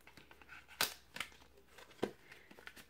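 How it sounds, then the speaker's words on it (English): Tweezers slit open a cardboard subscription box, producing faint, close scratchy tearing and crinkling with a few sharper rips in between. "maybe my tweezers can cut it open"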